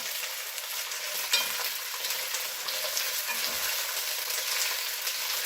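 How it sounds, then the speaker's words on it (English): Green beans frying over high heat in a pan and being stirred, a loud continuous sizzle with scraping stir noises, close up and with no voices. "And we throw in the green beans. And stir them around."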